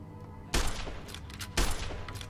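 Gunfire in the video game Fallout New Vegas: two sharp, loud bursts about a second apart, each followed by a brief rattling tail, with no talking.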